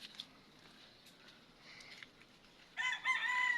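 A rooster crows toward the end, a fairly faint call rising over a quiet background with a few soft bird sounds earlier.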